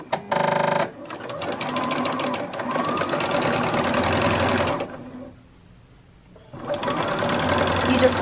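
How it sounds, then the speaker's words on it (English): Sewing machine stitching a seam on a swimsuit, running loud and steady in close bursts with a short pause near the middle before it starts again; no talking over it. "And sew it all the way from top to bottom."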